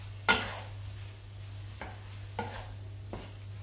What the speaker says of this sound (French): Et on remélange tout ça.